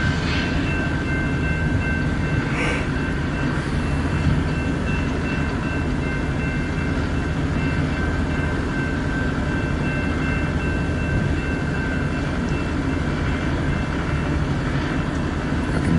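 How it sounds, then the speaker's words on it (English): A freight train begins to move south in freezing weather after brake repairs, giving a steady, loud rumble with faint metallic squeals. "hopefully get this train moving south so that traffic can resume"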